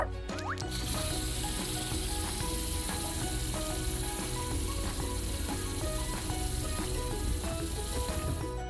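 Cartoon spray gun painting: a steady hissing spray runs throughout at moderate loudness, layered with light plinking musical notes and soft tapping.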